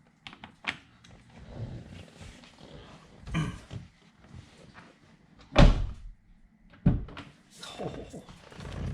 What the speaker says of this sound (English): I have to shut the door first.